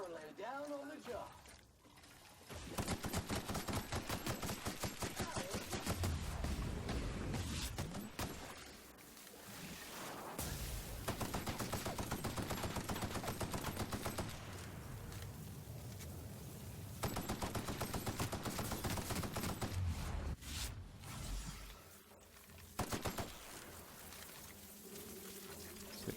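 Shotgun fire in the video game The Outer Worlds, heard as loud, sustained bursts of gunfire that run almost continuously with a few brief pauses.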